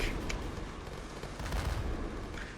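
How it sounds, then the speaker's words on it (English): Artillery rains down in a large multiplayer strategy war game: dense, continuous rumbling booms and crackling impacts at a distance, with no voices over them. "As the artillery now rains down here."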